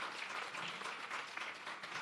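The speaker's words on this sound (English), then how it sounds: "Another round of applause." Applause at the launch of the Trade Board Limited EXPORTAcademy in Jamaica, an even, fairly distant patter of clapping from a seated audience that runs unbroken for two seconds at a low level.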